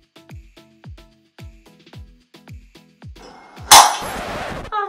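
A glass tumbler being prepared for etching gives a string of light, evenly spaced clinks, then shatters in one loud, bright crash followed by a brief scatter of falling shards.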